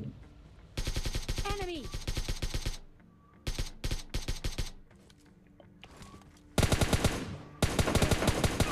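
Bursts of automatic gunfire from another player in a battle-royale shooter's red zone crackle in rapid volleys, separated by short quiet gaps, with some loud close bursts near the end.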